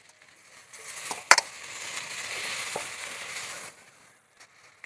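Loitta (Bombay duck) fish, with salt, dropped into hot oil in a pan and stirred: a sharp clatter, then a steady close sizzle for a few seconds that cuts off, followed by quiet.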